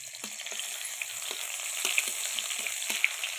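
Onions frying in oil in a pan give a soft, even crackle with light spatter pops and a few scraping stirs, close and fairly quiet.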